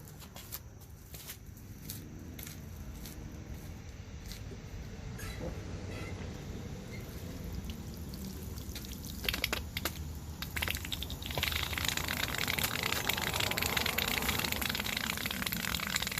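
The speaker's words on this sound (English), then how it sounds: "Water coming out of here." Water gushes from the hose of a Ryobi 2000 psi electric power washer, a steady rushing spray with scattered knocks and clatter, swelling louder partway through.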